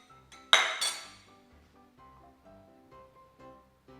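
A sudden crash of breaking glass, with a bright shattering burst that quickly fades into faint ringing and soft tones.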